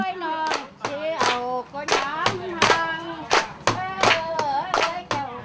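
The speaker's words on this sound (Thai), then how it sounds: "ปรบมือเคาะจังหวะประกอบ" Rhythmic hand clapping keeps time for a Lao-heritage folk entertainment performance, with steady, loud, evenly spaced claps under singing voices.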